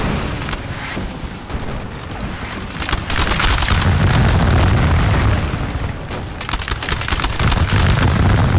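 In a Napoleonic war video game set in Egypt, cannon booms and crackling musket volleys roll on continuously in a dense, loud battle din, with heavy low thuds swelling midway and no talk over it.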